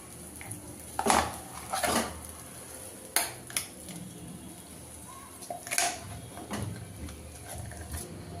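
Ground amla is tipped into a pan on the stove, with sharp metallic clinks and scrapes of a spoon against the pan, several distinct knocks spaced irregularly over a faint background.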